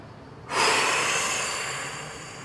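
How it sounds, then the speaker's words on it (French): A single long, forceful exhalation through the mouth during yoga breathing, a loud close rush of air that starts abruptly and slowly fades over about two seconds. "On expire par la bouche, à fond."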